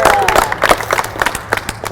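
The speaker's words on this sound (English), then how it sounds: "give yourselves a round of applause" An audience at a city news conference in Albuquerque gives a round of scattered, loose applause, with separate claps under a voice speaking over the crowd.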